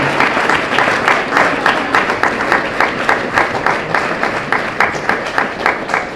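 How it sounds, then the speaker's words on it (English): Audience applause rings out at a university rector election debate, a steady dense wash of many hands clapping closely for about six seconds with no speech over it. "Right, a round of applause for all the candidates."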